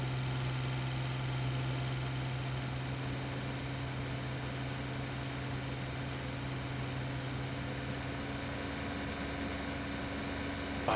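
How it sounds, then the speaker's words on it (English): A steady engine drone from an open-cab tractor driving in Farming Simulator 17, an even low hum with a constant tonal note running unbroken throughout, no talk over it. "I like sitting on this open tractor."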